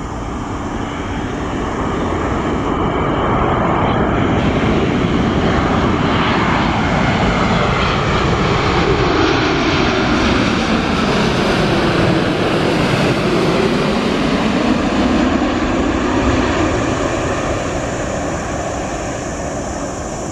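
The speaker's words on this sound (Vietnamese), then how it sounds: "Còn đây là pha hạ cánh của một chiếc Airbus A321 của hãng Vietjet Air." A Vietjet Air Airbus A321 comes in to land at Noi Bai airport, its jet engines roaring loud and close for the whole pass. A clear falling-then-rising pitch sweep marks the moment the airliner goes by, with no speech.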